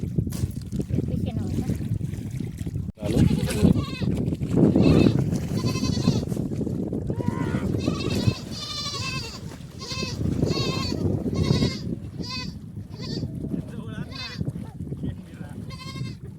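Several goats being washed with soap and water bleat again and again, their calls overlapping near and far over a low rumbling background with some voices.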